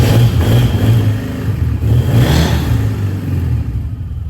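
A classic modified BMW engine runs and is blipped with the throttle, a loud, close engine note that swells in a couple of revs before settling back.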